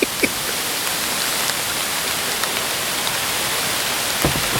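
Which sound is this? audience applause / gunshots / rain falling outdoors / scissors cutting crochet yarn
rain falling outdoors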